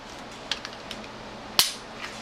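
A Glock 30SF pistol is handled during a safety check: a few faint clicks, then one sharp loud metallic clack from the slide or action, followed by quieter handling.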